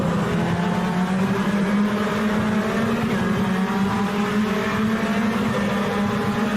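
Race car engine roaring steadily at high revs in a sim racing game, a loud continuous drone holding a near-constant pitch through a fast left-hand corner with faint tire noise.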